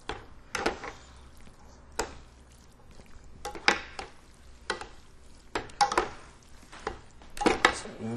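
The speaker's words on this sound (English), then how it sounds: "it just kind of allows me to toss the pasta a lot easier" Pasta for chicken tetrazzini being tossed and stirred with salad hands in a bowl or pan, giving repeated sharp clacks and scraping knocks in irregular bursts about every second, close and fairly loud with no talking.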